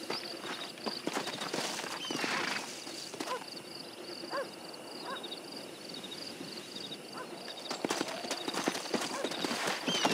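Horse hooves clip-clopping in Red Dead Redemption, a steady run of close hoofbeats over outdoor ambience with crows cawing in the background.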